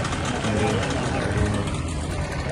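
A new four-stroke boat engine runs steadily on a river, giving a continuous low droning rumble while people talk over it throughout.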